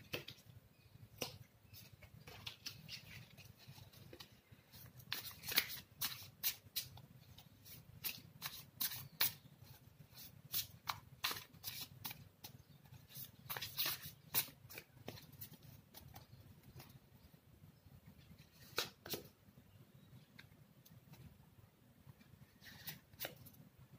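A deck of tarot cards is shuffled and drawn from, producing repeated crisp riffling and flicking bursts at irregular intervals, close and fairly quiet, with no talking.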